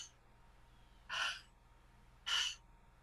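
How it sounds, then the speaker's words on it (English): Conscious connected breathwork done audibly through the mouth: two quick, breathy inhalations about a second apart, faint and close against a quiet background. "breathing in and out through the mouth in a circular connected way"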